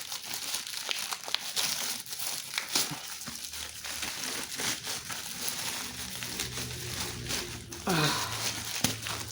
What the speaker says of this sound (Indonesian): di dalam plastik ada plastik lagi cuy.